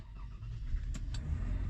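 A Toyota car engine cranks and starts with a key fob held to the push-start button, a short close rumble rising into a steady idle, with a couple of faint clicks.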